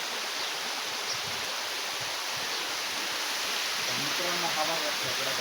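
A large waterfall in Parner pours water down from above, making a constant broad rushing hiss that is fairly faint and distant. Voices murmur briefly beneath it toward the end.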